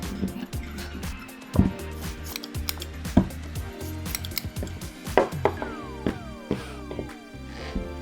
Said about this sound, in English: Cut these strands at a 45-degree angle to taper the core.